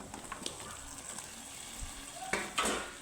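Pumpkin pieces frying with spices in a pan, a soft continuous sizzle with faint scraping stirs and a couple of louder clatters near the end.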